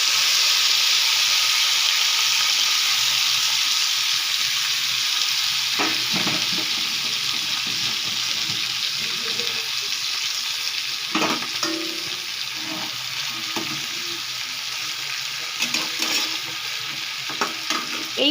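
Mourala fish sizzle in hot mustard oil in a kadai for a spicy fish dish, a loud, steady frying hiss with occasional crackles and spatters throughout.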